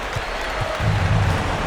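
Arena crowd noise in the NBA 2K22 video game at a Kings versus Clippers game, a loud, sustained roar of applause and cheering with a brief voice underneath.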